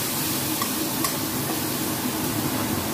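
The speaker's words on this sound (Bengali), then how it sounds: "দিয়ে ভালো করে মশলাটাকে কষিয়ে নেব।" Spice paste is stir-fried with fried onion, ginger and garlic in a pan for a Bengali spinach and prawn dish, giving a steady, even sizzle with faint scrapes of stirring throughout and no break.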